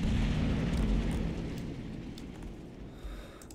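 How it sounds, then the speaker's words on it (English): Distant artillery explosions in the Combat Mission: Battle for Normandy wargame rumble as a low, fairly faint roar that fades slowly over a few seconds. "this artillery is still going"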